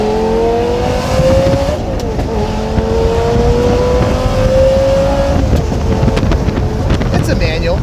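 Lamborghini Gallardo V10 with a gated 6-speed manual accelerating loudly and close, engine note climbing steadily, dipping at each shift and rising again, with wind rush throughout.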